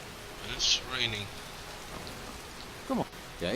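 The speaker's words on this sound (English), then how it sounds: "And it's raining." Rain falling in the video game Skyrim, a soft continuous hiss of raindrops in the background beneath brief bursts of voices and a few short sound effects.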